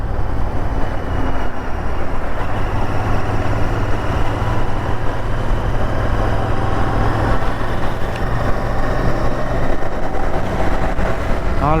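A Royal Enfield Interceptor 650 motorcycle cruises on the road with its engine held at 3500 RPM. It gives a steady, unbroken low drone with constant wind rush, loud and close throughout.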